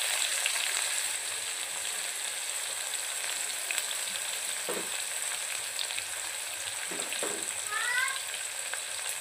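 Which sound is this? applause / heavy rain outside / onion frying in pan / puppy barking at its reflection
onion frying in pan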